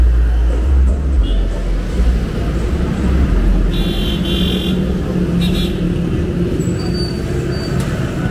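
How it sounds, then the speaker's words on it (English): Loud street traffic with heavy trucks passing on a city street in Puerto Plata, a steady close engine rumble filling the whole stretch, with faint voices beneath. "Man, these trucks are real loud,"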